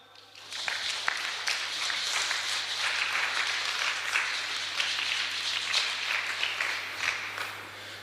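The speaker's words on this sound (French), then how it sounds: "On acclame." An audience applauds at a Sunday children's church gathering, a steady, moderately distant wash of clapping sustained for several seconds after a quick start.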